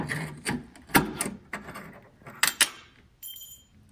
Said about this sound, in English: just using a flathead screwdriver and just pulling these out